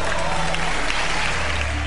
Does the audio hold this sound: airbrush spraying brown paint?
no